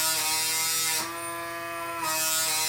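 PMD microdermabrasion device running against facial skin, a steady buzzing electric whine close up whose tone shifts and softens for a second mid-clip as it presses on the skin, then resumes.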